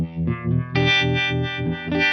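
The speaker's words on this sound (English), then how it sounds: "this one is kind of like the classic harmonic trem sound that verges on sounding like a univibe" Guitar played through an effects pedal set to a classic harmonic tremolo preset with a univibe-like throb, sustained chords pulsing and swelling in a steady rhythm, loud and close with no voices.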